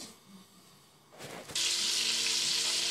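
Chicken frying in a pot for Algerian berkoukes, a quiet start with faint handling noises and a clatter, then a sudden loud, steady hiss of sizzling that carries on close by.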